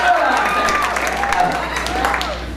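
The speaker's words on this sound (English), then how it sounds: "I would like the students behind me to give their parents a round of applause" Students applaud their parents at a middle school winter band concert, a steady wash of clapping from a crowd that fills the whole moment at moderate loudness with no pauses.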